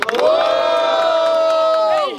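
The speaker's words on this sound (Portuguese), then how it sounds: "Quem gostou das rimas do Henrique faz muito barulho" A crowd at a student rap battle in Guarulhos roars and shouts loudly, one sustained burst of cheering with a high held whoop over it, close and dense.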